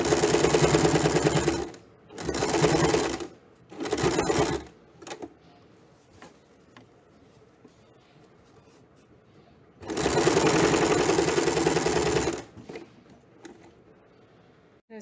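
A sewing machine stitches a high neckline seam with piping along a back-and-front joining. It runs in several loud, steady bursts of one to two seconds, then a longer run after a quiet pause, with faint handling sounds between runs.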